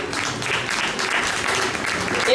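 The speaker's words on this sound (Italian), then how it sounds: "facciamo ancora un applauso" An audience at a Miss Vesuvio 2024 beauty pageant pre-final in a Naples shopping centre claps steadily together, a dense, sustained burst of applause that fills the whole moment.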